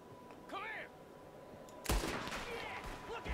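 Gunfire in the video game Red Dead Redemption 2: a sudden loud shot bursts out partway through, followed by noisy rumbling, with a voice heard briefly before it.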